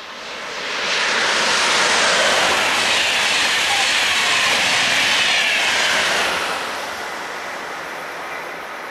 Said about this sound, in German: Die E10 mit ihrem Sonderzug nach Prien am Chiemsee und der ICE Richtung Augsburg.